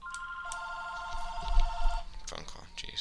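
A telephone ringing inside Civilization V, repeated electronic bell-like trills sounding steadily for about two seconds at moderate level over low background hum, followed by brief game interface sounds and soft speech.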